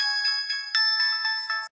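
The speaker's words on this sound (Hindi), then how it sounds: "फाखरा बेगम का फोन आ रहा है।" A mobile phone plays a bright, melodic electronic ringtone for an incoming call, a short repeating tune of clear chiming notes that stops abruptly.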